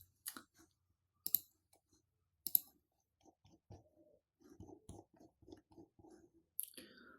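Computer mouse clicking while working in OrCAD Capture circuit design software, a few sharp isolated clicks at close range followed by quieter scattered ticks and taps.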